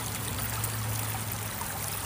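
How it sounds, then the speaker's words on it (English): Stream water flowing steadily downstream, a continuous broadband rush and trickle with a low hum beneath it, moderately loud and unbroken throughout with no voices. "We have the water moving downstream, following the path of the least resistance."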